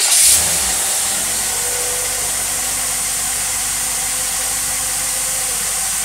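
An engine fitted with a rebuilt Holley single barrel carburetor runs steadily, a loud continuous hissing drone with a faint hum beneath, after a short louder burst at the start.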